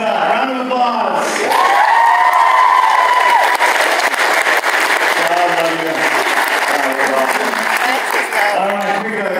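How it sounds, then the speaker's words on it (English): A convention panel crowd for voice actor J. Michael Tatum breaks into loud, sustained applause mixed with cheers, whoops and shouted voices, filling the room for about nine seconds. "Round of applause."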